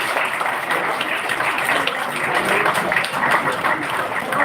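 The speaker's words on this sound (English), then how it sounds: "Please clap, otherwise nobody will clap for you." An audience applauds at a university convocation ceremony, a dense steady wash of many hands clapping that holds at an even level throughout, with no break.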